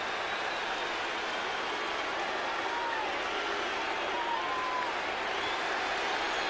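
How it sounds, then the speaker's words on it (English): A contingent of Boston Red Sox fans at a June 1997 away game against the New York Mets claps and cheers continuously at an even level, a broad wash of crowd applause after a two-run homer. "there are a contingent of Red Sox fans who have made the trip from Boston. That's what the applause is about in the background"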